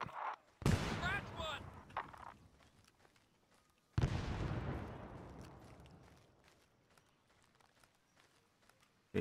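Two sharp frag grenade blasts in the ArmA 3 S.O.G. Prairie Fire Vietnam setting, the first brief, the second a loud boom trailing off into a long rumbling decay, with faint scattered noises between.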